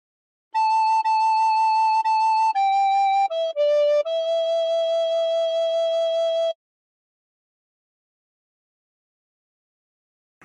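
A recorder plays a short melody from House of the Rising Sun, clear, pure sustained notes stepping down in pitch before holding a long final tone, then silence.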